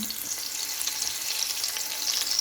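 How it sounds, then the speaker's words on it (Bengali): Garlic frying in hot oil gives a bright, even crackling sizzle that runs steadily throughout, close by and with no voices. "আমার তেল গরম হয়ে গেছে রসুনটা দিয়ে দিলাম"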